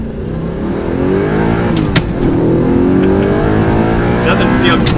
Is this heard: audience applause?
no